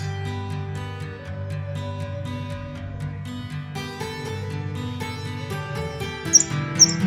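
Two short, high bird chirps ring out near the end, fairly clear but brief, over a soft, steady musical backing.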